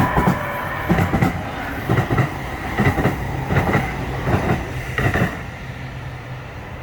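A train rolls past on rails with loud, regular clickety-clack bursts from the wheels over the joints, fading as it moves off.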